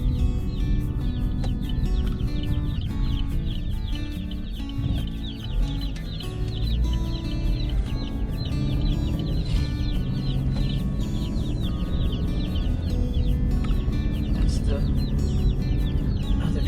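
Newly arrived meat chickens clucking and peeping in a brooder, a busy, continuous chorus of overlapping chirps and clucks close by, with a low rumble underneath and possible faint talk.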